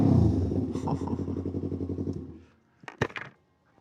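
A Yamaha R3 motorcycle with a new aftermarket exhaust revs close by, a throaty pulsing drone that winds down and cuts off, followed by a few sharp clanks and bumps.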